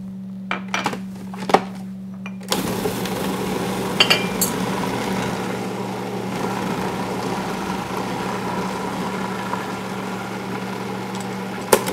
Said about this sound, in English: So I'm going to mix this until combined, and I'm going to scrape it down.